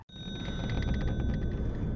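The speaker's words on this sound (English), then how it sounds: "a phone started ringing." A bright electronic phone ring from a video game repeats in quick pulses, steady tones trilling over a low background rumble, close and continuous.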